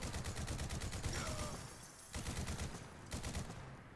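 Rapid automatic fire from an HK G11 rifle in the video game Fallout 4, loud dense bursts broken by brief pauses, with a faint whistling tone and no speech.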